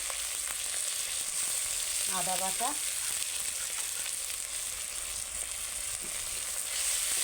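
Garlic paste sizzles and fries steadily in a hot pan, a constant crackling hiss, with a brief voice speaking partway through.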